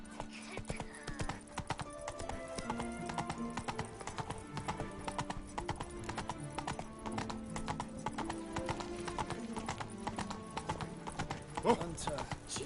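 A horse gallops in The Witcher 3, its hooves clip-clopping in a fast, even rhythm for the whole stretch, with game music and a voice talking over it.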